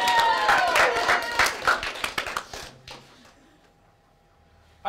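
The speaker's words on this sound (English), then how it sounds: "let's give our audience one more big round of applause for our two actors" A live audience applauds two improv actors, a loud, close burst of many hands that thins into scattered claps and fades to near silence.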